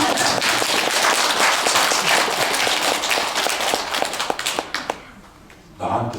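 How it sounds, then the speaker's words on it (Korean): An audience at a Buddhist temple dharma gathering breaks into dense, loud applause that thins into scattered claps and fades to near silence, followed by a brief burst of noise at the end. "박수 치려면 쳐"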